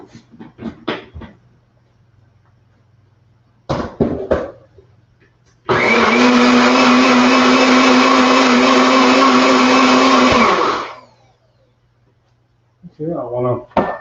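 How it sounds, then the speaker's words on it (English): A NutriBullet blender runs loud and steady for about five seconds with a strong motor whine, starting and stopping abruptly, between short bursts of talking before and after. "I'm gonna put it in the blender."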